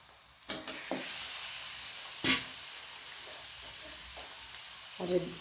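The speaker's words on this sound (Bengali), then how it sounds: "পেঁয়াজটা বেশ ভালো হয়ে লালচে হয়ে আমার ভাজা হয়ে গেছে এবার আমি মটনগুলো দিয়ে দেবো" Mutton pieces dropped into reddish-brown fried onions in a pan for a mutton and potato curry, hissing in a loud continuous sizzle broken by a few clanks and stirring scrapes.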